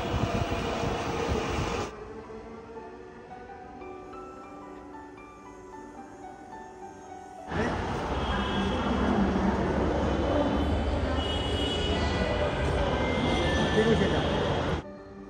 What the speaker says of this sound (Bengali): আমরা মিরপুর 12 মানে পল্লবী যে মেট্রো স্টেশন,